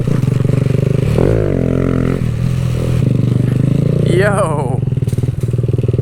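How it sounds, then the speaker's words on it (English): A loud 125cc mini bike engine runs steadily along a trail with a rough, buzzing exhaust tone, its pitch shifting and rising briefly as the rider revs, while a voice speaks briefly over it. "It is too loud for a 125cc little slow bike."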